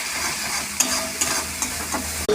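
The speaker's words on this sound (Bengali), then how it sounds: "নেড়ে চেড়ে ভালো করে কষিয়ে নিয়ে কষানো হয়ে" Spiced meat being stirred and fried in a pan, a steady sizzle running throughout with a few sharp scrapes of the spoon against the pan, close by and with no talk.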